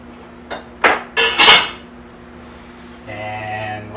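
Tomato sauce is spooned onto meat in a pot in a home kitchen, heard as several bright metallic clinks and scrapes of a spoon against the pot, followed by a quiet low hum.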